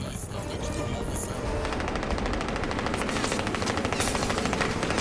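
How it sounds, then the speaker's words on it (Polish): Sustained rapid gunfire from Crysis 2 gameplay, a dense loud burst of automatic shots running throughout, with a helicopter likely adding to the din but not clearly separable. "Helikopter."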